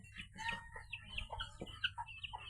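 Hen and chicks clucking close by in a quiet pen, quick soft peeping and short clucks in an uneven run.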